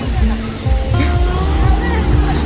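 Sea waves washing up on a beach in Goa near Aguada Fort, a steady loud low rush of surf and churning water filling the whole clip, with faint voices in the background.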